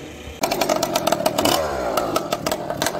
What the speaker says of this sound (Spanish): Ahí viene la moto.